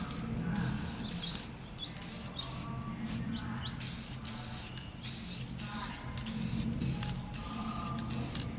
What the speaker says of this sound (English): time to just hit it with a little spray paint, just for a little rust protection